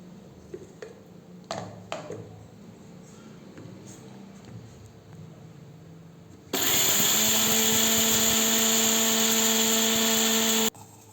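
Electric mixer grinder whirs loudly and steadily for about four seconds, grinding roasted curry leaves into powder, after a few soft clicks and handling sounds.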